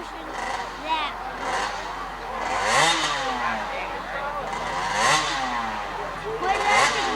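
A Honda 80cc junior-class racing motorcycle climbs a hillclimb course, its small engine rising and falling in pitch through repeated gear changes, moderately near, with a person talking over it.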